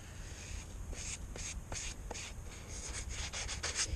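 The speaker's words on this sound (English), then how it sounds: "Squeegee." A squeegee spreads epoxy across material for a model wing, making a series of soft scraping strokes, each a brief rasp, fairly quiet and close, coming faster toward the end.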